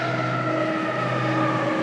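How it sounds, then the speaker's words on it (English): A fire engine siren wails in a steady, loud tone over the rumble of passing road traffic on a downtown Berkeley, California street. "there's the fire engine. It's going after the ambulance."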